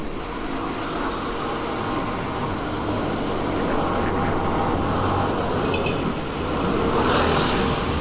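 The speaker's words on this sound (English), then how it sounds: "There goes the bus." A bus rumbles past on a road in Lapu-Lapu and Cordova, Philippines, a continuous, fairly close engine roar and road noise heard from a bicycle, with no talk over it.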